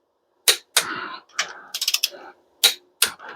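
A torque wrench tightens cylinder head bolts on a small-block Chevy engine build, producing sharp metallic ratchet clicks in separate close bursts, including a quick rattling run of clicks, with quiet gaps between and no talk.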